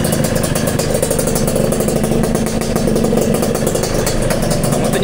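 A Yamaha 125ZR two-stroke motorcycle engine revs loudly and close up, a raspy, buzzing ring-ding drone held steadily for several seconds with a rattly clatter underneath and no talking.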